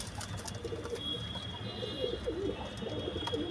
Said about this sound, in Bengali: আপনারা দেখুন পায়রা, দেখুন